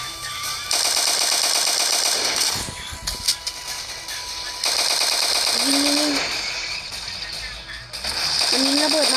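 Rapid mechanical gunfire bursts rattle loudly through a game soundtrack, pausing briefly midway before resuming in dense, sustained volleys.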